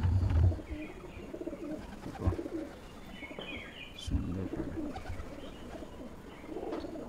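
Pigeons coo near a loft of old fancy breeds, with a white bird shown, their soft calls mixing with occasional chirps and a brief spoken word.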